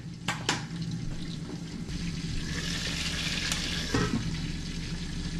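Food sizzles and fries steadily in a frying pan as it is sautéed, with a few sharp clanks of a utensil stirring against the pan near the start and again midway.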